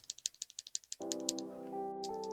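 Typing on clear polycarbonate XVX Ice switches produces about a dozen quick, crisp clacks in a fast burst. A steady tonal drone then takes over and mostly masks the keys.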